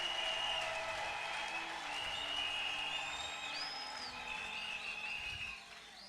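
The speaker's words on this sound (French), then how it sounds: "Est-ce qu'on peut applaudir le roi?" Church congregation applauding during a Pentecost service, a fairly faint wash of clapping mixed with high drawn-out cries and ululation, continuing steadily and easing slightly near the end.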